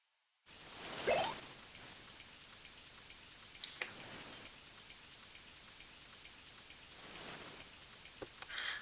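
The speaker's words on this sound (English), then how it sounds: "It's raining, but it's cold." Steady rain in the SNES game TNN Bass Tournament of Champions patters continuously with occasional sharper drop ticks, fairly soft and even throughout, with no voices.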